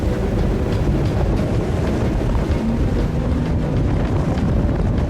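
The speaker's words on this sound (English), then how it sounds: "It is not till you experience going through the falls in a boat" A boat pushes through the rushing tidal falls of Horizontal Falls, with a constant loud roar of churning, turbulent water and wind buffeting the microphone throughout.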